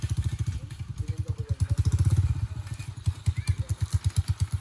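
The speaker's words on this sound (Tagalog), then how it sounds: "Ayos ay, nakarating na dito yung motor oh." A motorcycle engine chugs steadily nearby in a rhythmic low thumping putter, rising slightly in intensity midway, with faint background voices.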